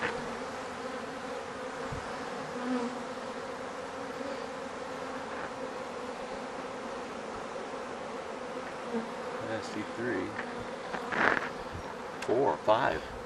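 Honey bees buzz steadily close by in a soft, continuous hum around queen cells, with a few louder passes and scattered handling noises toward the end.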